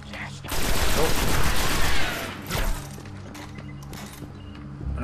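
Dense gunfire in the sci-fi shooter Destiny: a loud, close burst of rapid shots for about two seconds, then a shorter volley and a quieter stretch of scattered game sounds.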